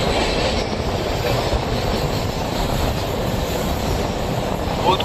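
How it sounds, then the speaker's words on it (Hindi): The Ernakulam Bilaspur Superfast train runs on its tracks through the Dongargarh forest range. A loud, continuous rumble of wheels on rail carries a faint clickety-clack and a light squeal, heard from inside the moving train. "और ये ट्रेन अपनी चल रही है डोंगरगढ़ धारा फॉरेस्ट रेंज में।"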